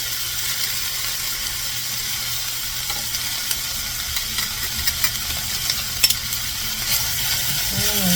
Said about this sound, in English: I'm gonna put in my garlic